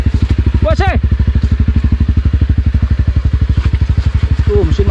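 Honda CRF Rally 250 single-cylinder engine idling and chugging on a rocky mountain trail descent, a steady close pulsing thump throughout with a brief voice rising over it.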